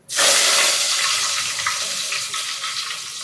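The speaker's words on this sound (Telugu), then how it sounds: "ఆవాలు బాగా చిక్కపట్టలాడాలి. ఆవాలు బాగా వేగాయి." Mustard seeds hit hot oil and burst into a loud, sudden splutter that stays dense and crackling, easing only slightly over a few seconds.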